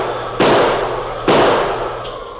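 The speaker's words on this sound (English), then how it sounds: "he pulled the heavy 6-gun from under his mackinaw and began firing." Two sharp, loud reports from a heavy six-gun revolver ring out close, each followed by a long echoing decay, staged as a radio drama effect in a snowy, lost-in-the-wilderness scene.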